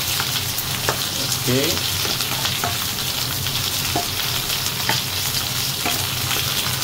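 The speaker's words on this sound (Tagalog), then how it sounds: "So, luya saka sibuyas. Gisa-gisa lang." Ginger and onion sautéing in a hot pan for a pork dish, a dense continuous sizzle with occasional light stirring taps, close up; a voice speaks one short word.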